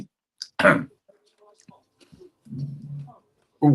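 A sharp close cough rings out, followed by faint mumbling and rough throaty sounds, then another harsh cough at the end.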